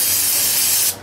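Brake cleaner aerosol sprayed onto a rag while servicing a Chevy Silverado K2500 front hub bearing, a single steady close hiss lasting about a second before cutting off.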